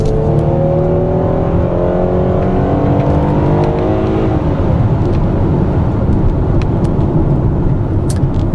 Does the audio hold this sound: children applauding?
no